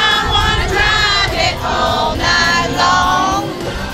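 Loud crowd at a Rascal Flatts fan event inside a JCPenney store in Albuquerque, a dense mass of excited voices with high cheering and screaming tones layered over continuous hubbub.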